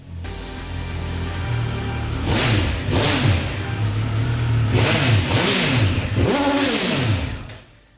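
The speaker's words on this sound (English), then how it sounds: "we've got even more of that triple bark from the 1200 RS" A Triumph Speed Triple 1200 RS three-cylinder motorcycle engine revs hard several times, pitch sweeping up and down in throaty bursts, close and loud with no talking.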